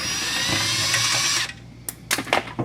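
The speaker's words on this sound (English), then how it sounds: "I'm taking these last 2 bolts out." Close, loud whine of a power tool spinning out transmission pan bolts on a 2021 Dodge Ram 3500 Cummins, running steadily for about a second and a half, then stopping, followed by a few short metallic clicks and clanks.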